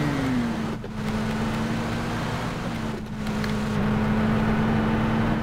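A new vehicle driving on the Miramar desert map in PUBG: a steady, close, droning engine hum. It briefly dips twice, then holds an even pitch and rises a little near the end.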